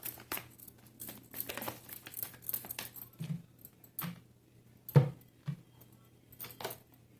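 Tarot cards are shuffled in short, soft bursts of riffling and slapping, with quiet pauses between them.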